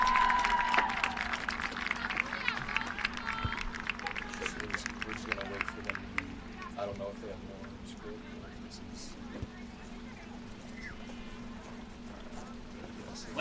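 Crowd applauding at a 2024 college women's soccer senior day, Mount St Joseph vs Rose-Hulman, with scattered claps that swell and then gradually thin out. A voice speaks over the start.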